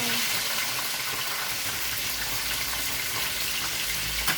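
Spring rolls frying in hot oil in a home kitchen: a steady, close, hissing sizzle that holds at even loudness throughout, with a low rumble near the end.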